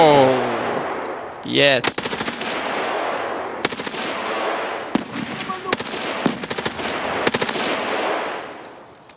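Automatic rifle fire in the shooter game Escape from Tarkov, several sharp bursts of rapid shots with short pauses between them, heard over players talking.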